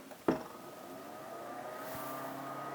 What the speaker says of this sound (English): it turns on the fan and the LED lights automatically